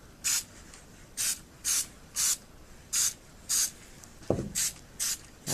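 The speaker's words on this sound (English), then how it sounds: "I don't think I've ever sprayed in front of a camera before, so it's kind of hard to do it." Aerosol spray can coating a camping tarp, a series of nine short evenly spaced hissing bursts, close and loud, with one brief knock partway through.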